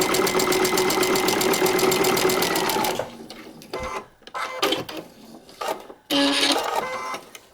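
A sewing machine stitches a paper-pieced quilt block in one steady, loud three-second run, followed by scattered handling clicks and rustles, then a short second burst of stitching.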